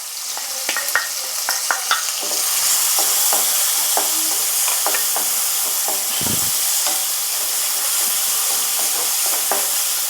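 Chopped onion with curry leaves sizzles steadily in a pan, a constant bright hiss broken by clacking stirring strokes and one low thump, with no talking.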